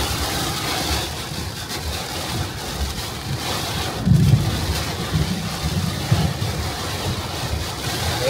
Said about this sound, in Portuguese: Olha o chuvão, gente.